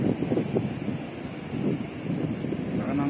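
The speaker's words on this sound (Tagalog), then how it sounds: "ganyan kalakas ang alon ngayon dahil may bagyo." Strong sea waves surge at a port during a typhoon under heavy gusting wind, a loud, continuous rough wash with wind buffeting the microphone and no clear speech.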